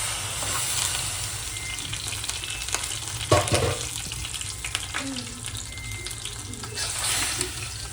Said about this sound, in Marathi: आता ह्याच्यात पाणी टाकू आपण.